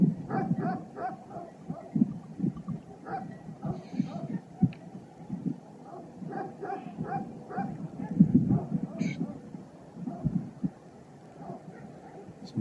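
Several shepherd dogs bark and yip in short, scattered bursts at moderate distance in a village, with some whimpering mixed in over a muffled background.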